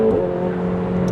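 A McLaren 750S engine drones loudly and close by, its steady, humming tone holding throughout a brief stretch with no voices.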